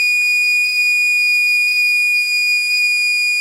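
A steady, high-pitched electronic buzzer tone from a light-sensor circuit, triggered by low light, sounds continuously and loudly, unchanging for the whole stretch.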